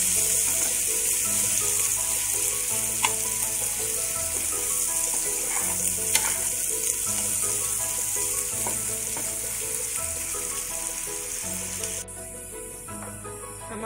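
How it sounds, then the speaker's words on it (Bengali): Onions frying in a pan until browned, for a brinjal pickle dish, with a steady dense sizzle and occasional stirring clinks and scrapes, close and continuous, with no talk. "আমি পেঁয়াজগুলোকে ব্রাউন কালার করে ভেজে নেব"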